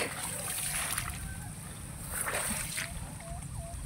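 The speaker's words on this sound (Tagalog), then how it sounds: "Hirap maglakad sa tubig." Feet slosh and splash through water in a flooded farm field, rhythmic wading sounds close by under a steady outdoor wash, with no talk.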